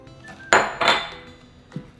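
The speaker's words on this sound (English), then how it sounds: "Stir that up." A spoon stirs McCormick brown sauce and a cup of water in a pan, giving a few short metallic clinks and scrapes against the pan, with two louder knocks close together and a softer one near the end.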